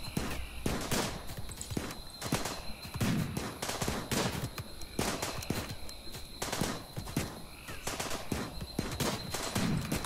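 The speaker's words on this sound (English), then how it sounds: "Oh no, we've been shot." Gunfire in the video game RimWorld, repeated sharp shots in irregular bursts, loud and close throughout with steady background ambience.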